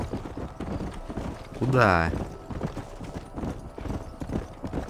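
Horse hooves galloping in Red Dead Redemption, a steady clip-clop rhythm running throughout with a brief whinny in the middle, while someone talks over it.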